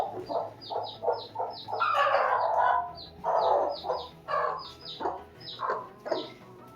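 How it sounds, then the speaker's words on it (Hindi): A hen clucks repeatedly in short bursts, with a few louder drawn-out squawks in between, fairly close and with no talking. "देखो, ये मेरी मुर्गी है।"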